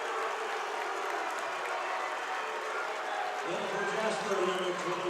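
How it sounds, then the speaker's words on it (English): A high school basketball crowd at a Jasper vs Loogootee game boos in a steady, dense roar that fills the gym, with a commentator's voice running over it. "Boos come from the Jasper crowd while Loogootee enjoys it."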